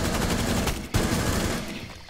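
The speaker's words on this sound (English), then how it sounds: "on my screen, I shot you so many times" Rapid automatic gunfire from a Rainbow Six Siege match, bullets punching through walls, fired as a dense continuous burst with a sharp crack near the middle, loud and close with no talk.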